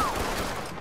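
A grenade blast from the video game Mafia 3 fills the moment with a dense, loud rumbling burst amid gunfire, sustained and close throughout.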